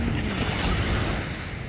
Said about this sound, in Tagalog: may kalbog na naman yung ating karagatan